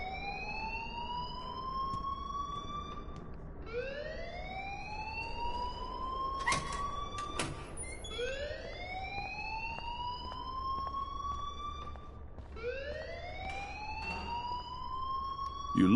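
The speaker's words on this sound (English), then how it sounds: "please turn off that alarm since that's your job" An alarm wailing in the game Life is Strange, a repeating rising siren sweep roughly every four seconds, loud and steady, with a couple of brief clunks in the middle and no speech.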